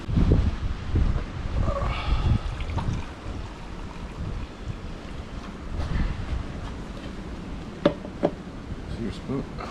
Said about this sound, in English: Oh, the wind's still blowing.